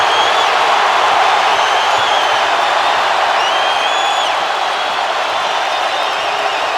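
Basketball arena crowd roars at an NCAA Elite Eight game between Purdue and Tennessee as Zach Edey steps to the free-throw line, a dense, loud and continuous crowd noise with scattered whistles and whoops.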